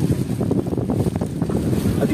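A west wind buffets a fishing boat at sea in cold, choppy weather, producing a steady, heavy rumble of wind noise on the microphone that runs unbroken through the whole moment.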